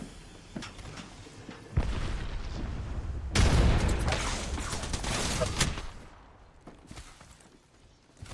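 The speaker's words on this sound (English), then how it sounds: "Grenade." A grenade explodes during a match of the video game Apex Legends. A deep, loud boom rolls out amid scattered gunfire and rumbling battle noise, then slowly fades.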